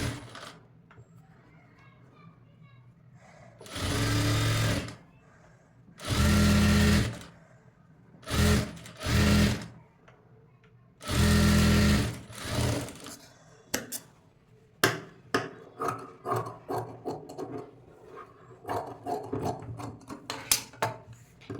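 Sewing machine stitching piping onto the back waist of a cutwork designer blouse: several close bursts of rapid mechanical whirring separated by pauses, then a run of sharp clicks and taps.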